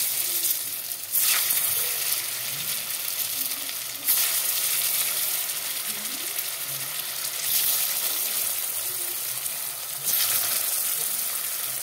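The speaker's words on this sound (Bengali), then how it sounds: "এখন ডিমগুলোকে ভেজে নেব।" Boiled eggs frying in a pan give a loud, continuous crackling sizzle heard close up, with a few sharper bursts of spitting oil as they are turned, and no talk.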